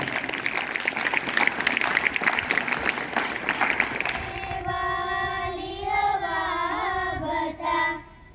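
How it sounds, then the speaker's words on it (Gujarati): Audience applause at a school Republic Day celebration at St Marys School, Ghogha, a dense crowd clapping for about four seconds before giving way to music with a singing voice. "અરે જોરદાર તાળી."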